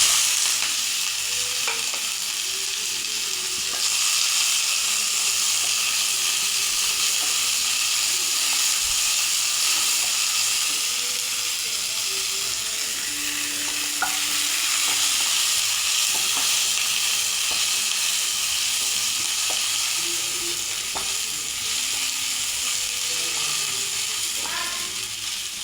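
Onions fry in a pan with mustard seeds and chili, giving a loud, continuous close sizzle with frequent scraping stir strokes throughout.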